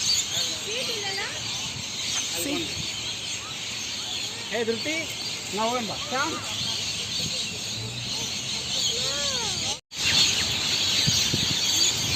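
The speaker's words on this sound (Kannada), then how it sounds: "ಗಿಣಿ ಅಲ್ಲ ಬೇರೆ ಏನೋ ಥರ ಡಿಫ್ರೆಂಟ್ ಬರ್ಡ್ ಇದೆ" Several birds chirp and call repeatedly from nearby trees around Sydney, Australia, short rising and falling notes scattered over a steady background hiss, with a brief dropout near the end.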